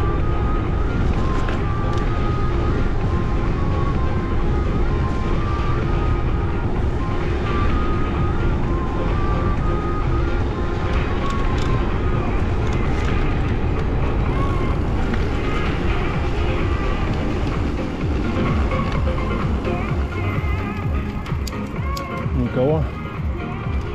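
Cool spring wind in Crimea on a May road route near Feodosia, buffeting the microphone as a constant low rumbling rush that stays loud and unbroken for the whole stretch.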